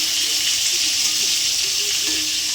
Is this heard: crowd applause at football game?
no